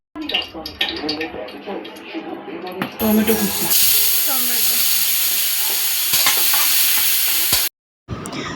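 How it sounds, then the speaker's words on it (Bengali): Cardamom, cumin, bay leaves and dried chillies roast in a wok with a loud, steady sizzle and hiss, broken by stirring scrapes, close up, under a person talking at the start. "এলাচ জিরে তেজপাতা শুকনো লঙ্কা ভালো করে কড়াইয়ে টেলে নেব"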